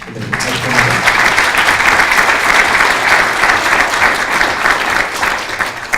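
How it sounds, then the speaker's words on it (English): Audience at a conference plenary session breaks into applause, a dense, loud round of clapping from many hands that swells quickly after a brief voice and holds steady to the end. "So let's give her a round of applause."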